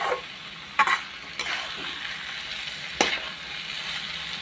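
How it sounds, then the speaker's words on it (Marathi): Onion sautéing over low heat in a pan for onion chutney: a steady soft sizzle, close by, with a few sharp scraping strokes of the spatula scattered through it. "आता मंद एक दोन मिनटं आपण परतून घेऊया"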